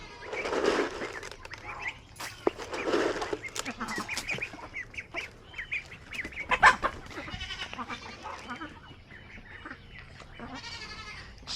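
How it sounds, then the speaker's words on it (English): Farmyard hens and a rooster cluck and squawk at close range in irregular bursts, mixed with other poultry calls and scattered rustling, with no talk. "That must be a hen, because that's a rooster."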